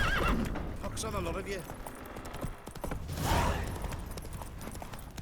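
A horse in The Witcher 3 whinnies loudly and clip-clops along under a man's spoken line, with hoofbeats and ambient game noise continuing throughout.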